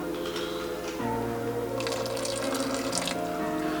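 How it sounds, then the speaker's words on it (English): Pasta water pours into a cheesy chicken and shrimp Alfredo sauce with added queso. The close, splashy liquid stream thickens partway through and runs for a few seconds. "You always got to add some pasta water."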